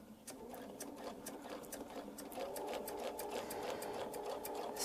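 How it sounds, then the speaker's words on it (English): A sewing machine stitches a quarter-inch seam on a small fan-pattern quilt block, a steady fast mechanical whir with rapid needle clatter, quiet and close, speeding up slightly partway through. "we're going to sew our 1/4 inch"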